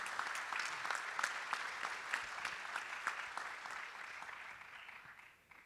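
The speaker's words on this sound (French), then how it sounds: "Je vous demande de l'applaudir tous" A roomful of people at a cardiology gathering applaud an honoured colleague, a steady dense clapping at moderate distance that carries on without talk and tails off at the end.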